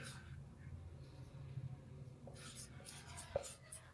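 A maths formula is written out by hand, faint scratching and tapping of a pen or chalk under a quiet low voice, close but soft with a small click near the end.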